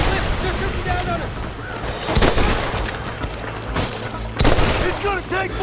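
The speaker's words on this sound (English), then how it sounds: "They're shooting down on us." Gunfire in the Red Dead Redemption video game: a string of close, sharp shots and booming reports at irregular intervals, mixed with voices shouting in the middle of the firefight.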